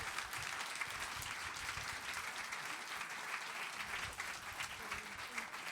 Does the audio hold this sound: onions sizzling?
no